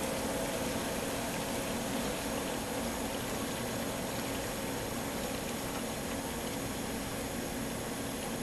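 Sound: waterjet cutter tank water level rising

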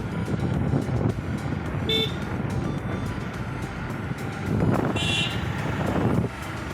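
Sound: car approaching and honking

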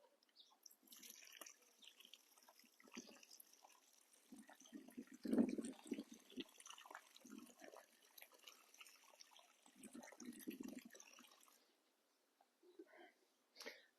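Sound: water poured into planting hole

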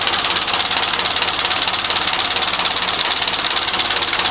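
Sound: Model A Ford pickup engine starting and running

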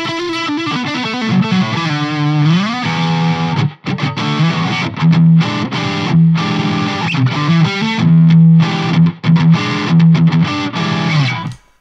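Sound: distorted guitar through Nembrini Audio MP1 Pro tube amplifier

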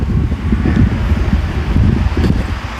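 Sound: strong wind blowing outdoors

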